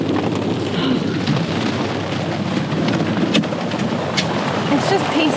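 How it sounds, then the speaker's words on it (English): Pea-size hail pelts down in the Black Hills, a dense, steady broadband patter with scattered sharper impacts, loud and unbroken throughout, with faint voices at times. "Yeah, it's hailing."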